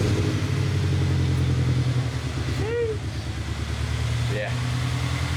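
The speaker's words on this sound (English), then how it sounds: "Make sure you start your car for a bit and then let it chill" A car engine runs steadily just after an oil change, a close, continuous low hum with a faint rhythmic pulse and a couple of short squeaks over it.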